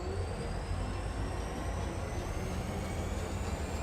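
Train in the factory-building game Foundry, a steady rumbling rail drone with a faint high whine, continuous and even at moderate level, with no talk.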